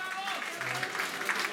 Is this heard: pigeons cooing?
no